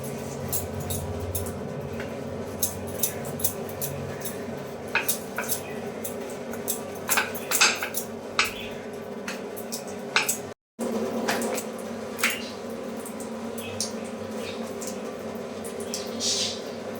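Spinach puri dough is rolled out with a rolling pin, giving soft repeated rubbing and tapping knocks against the board over a steady low hum, with one brief dropout.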